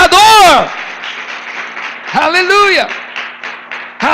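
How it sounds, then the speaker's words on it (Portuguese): A church congregation breaks into applause between loud, shouted exclamations from the leader, the clapping a diffuse wash under and between the voices. "Dá uma oferta de palmas a Ele."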